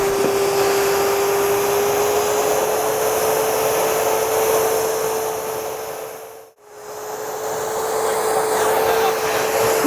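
A steady, loud vacuum cleaner hums with a constant tone, cutting out abruptly for a moment before starting back up at full power.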